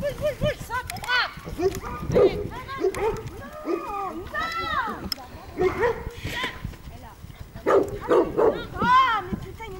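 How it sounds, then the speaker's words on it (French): A dog barks repeatedly at close range while someone talks and urges it on, barks and voices overlapping through the stretch. "il vient m'aboyer là"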